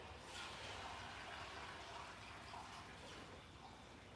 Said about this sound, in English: My garage is all the water from the house runs in here. So if someone flushes the toilet or takes a shower, just the water's really loud.